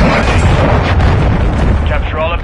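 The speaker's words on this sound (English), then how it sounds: "Hostiles launched a cruise missile." Cruise missile strike in a military shooter video game, a sustained loud, rumbling roar of explosions and debris filling the whole clip, with faint voices underneath.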